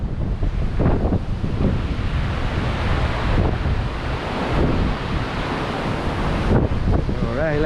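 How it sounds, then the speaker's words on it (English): Strong wind on the Californian coast in January rain blasts the microphone with loud, gusting rumble over crashing surf, and a voice speaks briefly beneath it. "It's pretty windy"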